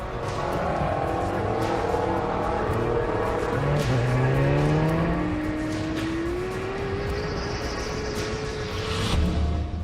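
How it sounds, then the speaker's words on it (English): An F1 car on the grid, its engine note rising and falling through several sweeping revs with rough tyre noise underneath, loud and close, without speech. "spins his rear tyres to make them hotter and stickier, so he has more grip off the line"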